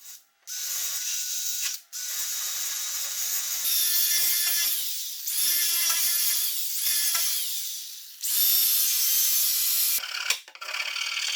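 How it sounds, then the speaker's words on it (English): Outlet holes being cut and filed into a bodywork tub, long rasping strokes of a file grinding in repeated bursts, close and loud with short pauses between passes. "the outlet holes for the bodywork tub can also be cut and filed out"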